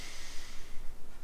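A single deep inhale during a yoga session, a soft close breathy rush of air through the nose lasting about a second, with no talk over it.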